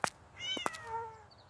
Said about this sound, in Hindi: वो बिल्ली को तंग कर रहा है।